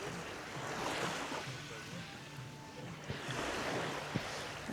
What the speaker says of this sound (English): Got the sound of the waves.